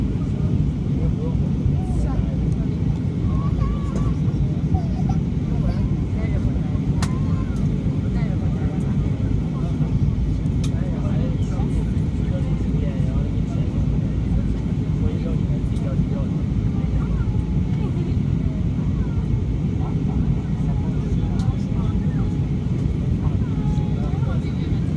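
A British Airways airliner cabin on landing at Heathrow after a flight from Hamburg fills with loud, steady, low engine and airflow roar throughout, with faint voices underneath.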